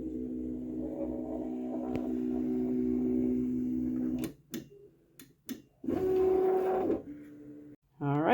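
LOKLIK cutting machine powering on, with a steady motorized whir and hum for about four seconds, then short mechanical clicks and another brief motor run as the unit initializes.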